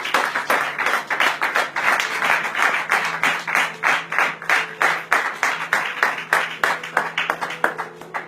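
A church congregation claps in a steady, rhythmic beat for about eight seconds, loud and close, with a little cheering mixed in.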